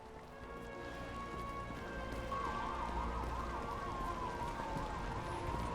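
In the game Nobody Wants to Die, a police car siren wails in a rising and falling pattern, fairly faint and distant. It sits over a steady low rumble of engine and traffic.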